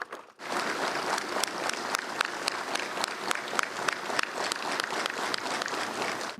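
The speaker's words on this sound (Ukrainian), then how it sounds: "Оплесками та обіймами зустрічають легендарних командирів на рідній землі." People clap steadily and rhythmically to welcome legendary commanders home after captivity. The close, fairly loud applause starts abruptly and carries on throughout with a regular beat.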